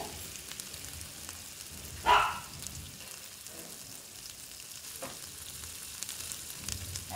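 Katla fish heads frying in hot oil over a spice masala, a steady low sizzle with one brief louder crackling burst as pieces go in, faint spitting continuing afterward, no voices.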